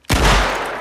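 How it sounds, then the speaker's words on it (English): A single loud gunshot from a film scene in Inglourious Basterds, with a sharp crack that rings out into a long, heavy reverberant tail, heard alone. "the gunshot as Raine kills Hermann"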